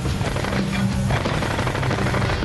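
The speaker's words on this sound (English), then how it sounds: "shoot the loader's 240" An M240 machine gun fired from the loader's position on an M1 tank, a dense, continuous stream of loud, rapid gunfire with no pauses, under no talk.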